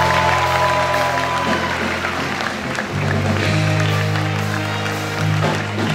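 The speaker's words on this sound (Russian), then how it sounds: "Проходите к своим студентам, а вы встречаете их своими овациями." An audience applauding students as they come onstage, with steady dense clapping at full volume throughout, mixed with a low sustained musical tone.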